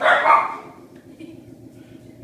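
Dogs barking close by: a quick burst of loud yipping barks up front, then a low rumbling background and a last bark cut off at the end.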